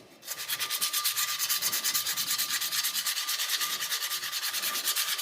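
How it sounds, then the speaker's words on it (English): Hand sanding a product with sandpaper: a close, steady rhythmic rasp of quick back-and-forth strokes that continues unbroken after a brief quiet start, with no voices. "So I use a sandpaper and have my product here and dust it."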